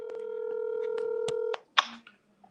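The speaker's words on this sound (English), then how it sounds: "Let me call Roz on the phone" Touch-tone telephone dialing for a speakerphone call: a quick run of DTMF key beeps over a steady tone, then a brief ring-like burst and a faint click, with no talking.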